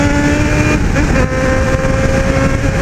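A Honda Hornet and a Yamaha XJ6 motorcycle accelerate hard on a road, a loud, close, sustained engine drone with steady rising tonal whine and heavy wind roar, no pauses.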